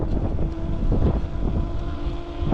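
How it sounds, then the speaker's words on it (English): Gusty, cold wind buffets the microphone with a rough, low rumble, steady and close, with a faint hum beneath it. "it is windy out here and cold"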